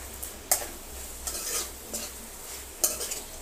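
A spoon stirs a mushroom and potato curry with coriander in a pan, giving a few sharp metallic clinks and scrapes over a soft low sizzle, close and intermittent, with no voices.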